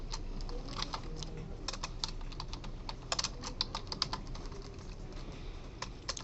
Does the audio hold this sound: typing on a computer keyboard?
yes